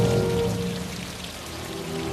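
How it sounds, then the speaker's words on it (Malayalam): Steady rain patters on surfaces in a continuous hiss, with a faint low tone lingering underneath, no speech. "പാട്ടുപാടി നൃത്തം ചെയ്യാൻ മഴയത്ത് എന്ത് രസം"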